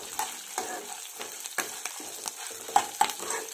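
Urad dal and spices frying in oil for a spicy vegetable kootu, a soft continuous sizzle broken by repeated scraping stirs and a few sharp crackles.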